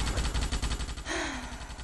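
Rapid automatic weapon fire from the 2005 Starship Troopers video game, a steady run of loud, evenly spaced bursts, then the shooting gives way to a whooshing, rising tone near the end.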